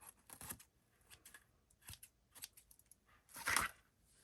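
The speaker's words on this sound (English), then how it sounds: "I think I will cut some of this down" Scissors snip through small craft bits and pieces at a desk: a quiet series of short, crisp cuts spaced irregularly, ending with a louder, longer snip.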